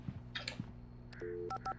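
Telephone dialed in the video game Alan Wake: a handful of distinct touch-tone beeps in quick succession over a low background hum, with no talking.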